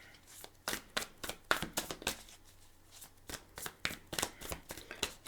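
Tarot cards being shuffled and drawn by hand, close up: repeated bursts of riffling and slapping card sounds in quick irregular runs, with brief pauses between shuffles.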